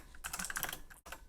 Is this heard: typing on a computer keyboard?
yes